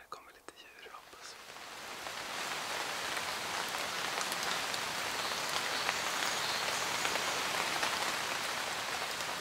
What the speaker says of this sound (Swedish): Nu har det börjat regna ganska mycket här på morgonen.